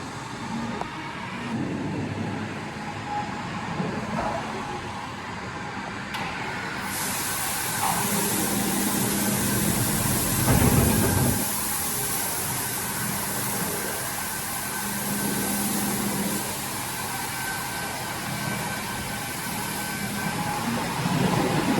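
A farm vehicle rolls in with the second load of harvested oats at a farmyard, its engine a steady mid-distance rumble for over twenty seconds, with a brief louder surge near the middle and a hissing broadband wash throughout.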